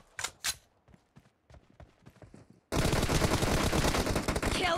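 Gunfire in PUBG Mobile during team deathmatch play: a few sparse shots and clicks, then a sudden dense, loud burst of rapid automatic fire continuing to the end.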